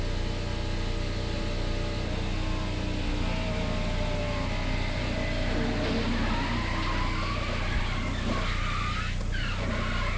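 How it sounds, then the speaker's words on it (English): A Pontiac stock car is caught up in a multi-car crash, heard from its in-car camera: loud continuous engine roar with skidding and tire squeal rising near the end, no voices. "Trop Arctic Pontiac was involved somewhat in the crash"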